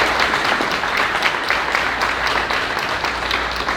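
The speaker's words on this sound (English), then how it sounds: "So another round of applause" Warm audience applause at a leadership program commencement ceremony, continuous dense clapping filling the whole few seconds without speech.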